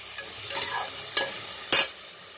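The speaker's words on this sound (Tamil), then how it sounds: "இது நல்லா வதங்கி வரணும்." Onions sautéing with ginger and garlic in a pan as a spatula stirs, several scraping strokes over a low, steady sizzle with one louder sharp scrape near the end; no voices.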